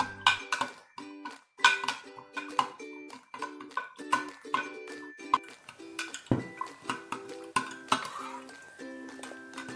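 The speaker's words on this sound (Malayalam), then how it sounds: "ഇതൊരു സ്പൂൺ വെച്ച് ഇളക്കുക." A metal spoon stirs buttermilk in a glass, ringing clinks against the sides in a quick, steady rhythm, close and clear with quiet pauses between strokes.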